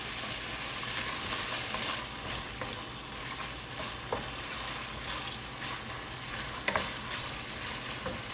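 Onions frying in a little oil for a Somali breakfast, giving a steady, moderately quiet sizzle with faint crackles and occasional soft stirring clicks, with no voices.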